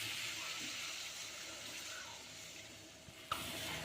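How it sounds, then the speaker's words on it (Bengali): Water poured into a pot of chicken and potato curry, a steady broadband splashing stream running continuously for several seconds, then a brief clink near the end. "এখন আমি এই মুরগির মাংসের মধ্যে পরিমাণ মতো পানি দিয়ে দিচ্ছি"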